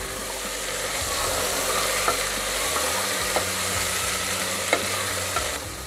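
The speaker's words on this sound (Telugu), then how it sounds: "దీంట్లోకి మనం బీట్రూటు, ఇందాక తీసుకున్న క్యారెట్, కార్న్ యాడ్ చేసి ఒక 2 మినిట్స్ దీన్ని ఫ్రై చేద్దాం." Beetroot, carrot and corn fry and get stirred in a pan for pav bhaji, with a steady broadband sizzle and occasional light scrapes and clicks of the spoon throughout.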